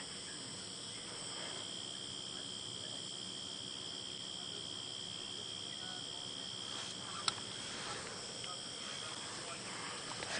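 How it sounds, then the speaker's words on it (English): Cicadas and crickets call in a steady, high continuous drone across an African safari landscape at sunset, with faint birds chattering in the background throughout. "And I'm sure you can hear those cicadas."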